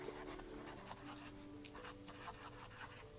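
Pen or marker scratches across a painted art journal page in short, close strokes, a soft scratchy rubbing that starts and stops in quick bursts.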